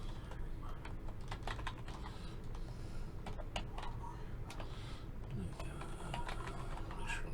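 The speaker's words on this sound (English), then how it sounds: "Make sure I'm typing that correct." A database password is typed on a computer keyboard: rapid, quiet keystrokes in irregular bursts, close to the microphone over a low steady background hum, with faint speech in the room.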